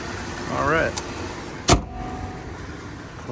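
The power window of a 2018 Jeep Grand Cherokee Trailhawk 4x4 hums briefly as it closes, followed by a sharp thump as it seats, heard close with a short voice beforehand.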